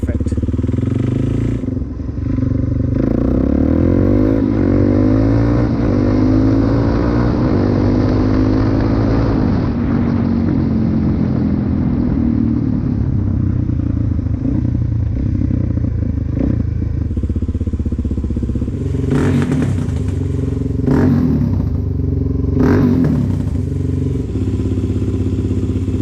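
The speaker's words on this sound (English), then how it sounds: "it's still just a touch lean. That's why it's backfiring a little bit" A Suzuki DRZ400S motorcycle engine running slightly lean, loud and close, its idle rising and falling before several sharp backfire pops near the end.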